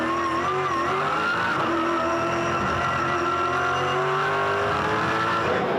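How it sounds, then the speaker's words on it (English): Race car wheel spin on a circuit during a Supercars-style race, with tires squealing and engines revving in a sustained, loud, continuous wash of engine and skid noise lasting throughout. "the wheel spin that you can hear in the background"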